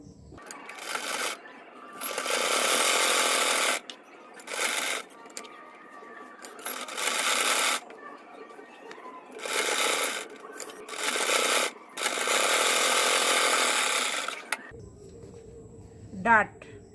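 Sewing machine stitching a square blouse neckline, running in several long bursts of rapid whirring separated by short pauses, with a softer tone near the end.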